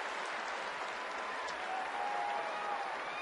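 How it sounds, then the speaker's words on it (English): Dodger Stadium crowd applauding an injured rookie, Austin Jackson, as he walks off to the dugout during a Tigers at Dodgers game, with steady, dense clapping and a broad crowd wash throughout. "gets a hand from the Dodger crowd as he goes into the dugout"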